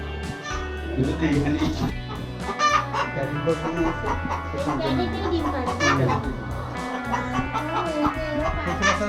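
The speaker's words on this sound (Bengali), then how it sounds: "সবাই মুরগিরা ডিম পাড়ার জন্য তার নির্ধারিত স্থানে সিরিয়াল ধরে দাঁড়িয়ে আছে" Hens on a poultry farm cluck and murmur while waiting in line at their laying spots, a busy, fairly loud chorus with children's voices mixed in the background.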